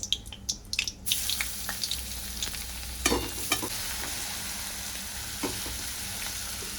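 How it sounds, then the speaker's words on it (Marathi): Grated raw mango sautéed in ghee with cloves, cinnamon and cardamom, a steady close sizzle with scraping stirs and a few sharp clinks of a spoon against the pan. "कैरीचा किस चांगला तुपावर परतून घ्यायचा आहे।"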